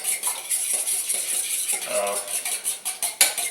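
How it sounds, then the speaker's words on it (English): Eggs whisked in a bowl with a fork or other cutlery, giving a quick run of light clinking taps against the bowl, close and clear. "you just want to kind of get everything mixed together."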